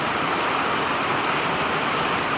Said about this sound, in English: When it rains here in Washington, it rains.